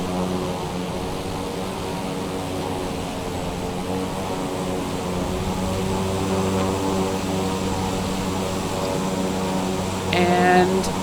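Steady drone of a light aircraft's propeller engine in Microsoft Flight Simulator, touring Japan, loud and continuous, with a short higher whine near the end.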